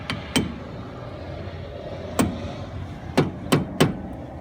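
Five sharp metallic hammer taps on a Ford Ranger wheel hub dust cap, spaced irregularly — one, then a pause, then a quicker cluster of three — close up over a quiet room.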